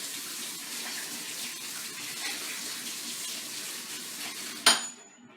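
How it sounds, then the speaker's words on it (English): Running tap water pours steadily into a sink during handwashing in a home kitchen, a soft continuous wash that ends with a short clatter before it stops. "Let me wash my hands."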